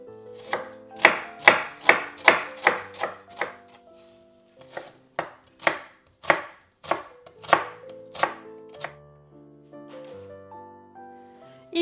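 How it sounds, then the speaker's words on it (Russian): One onion finely diced with a knife on a cutting board in a home kitchen: steady bursts of sharp, close chopping taps, about a dozen in quick runs with short pauses, loud and without talk. "Одну луковицу нарезаю мелкими кубиками."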